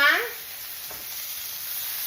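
A thin steak laid into a hot frying pan gives a brief burst of sizzling that settles into a steady, quieter fry, with a faint stir or clink partway through.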